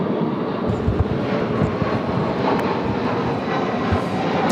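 A jet airliner takes off from runway 34 Left at Sydney Airport, its engines giving a steady, broad roar that holds loud and continuous at a distance with wind buffeting the microphone.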